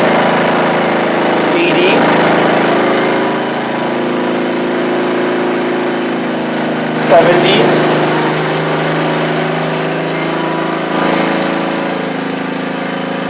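A Ryobi 1800 gas inverter generator idles under a light 100-watt heat gun load, giving a steady, even engine hum throughout with a voice speaking over it.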